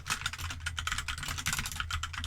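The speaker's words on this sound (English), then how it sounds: "I might have to resync this wireless keyboard to the computer" Rapid, continuous clacking on a wireless computer keyboard, close and loud, with busy irregular keystrokes and no talking.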